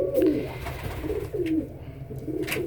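Pet pigeons cooing in soft, repeated throaty phrases, several coos in quick succession at close range, with no talking.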